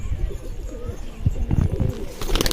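Pigeons kept by a breeder coo close by in a few soft, throaty bursts, with light rustling between the calls.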